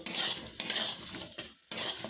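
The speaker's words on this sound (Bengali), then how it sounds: "এবার আমি তেলের মধ্যে একটা একটা করে বড়ি তুলে ছেড়ে দেবো" Lentil dumplings frying in hot oil: a close, steady sizzling hiss broken by brief pauses and the light scrape of stirring.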